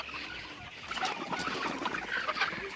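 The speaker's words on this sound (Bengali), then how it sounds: "এই যে এখানে মুরগি" Chickens at a poultry farm beside a garden cluck and chatter softly at a distance amid a noisy outdoor background, with scattered short calls throughout.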